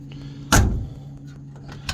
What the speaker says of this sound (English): Door surprisingly open and shut real good.